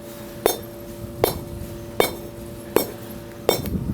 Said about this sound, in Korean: 이렇게 블럭 형태로 만들어서 제가 망치로 한번 두들겨 보겠습니다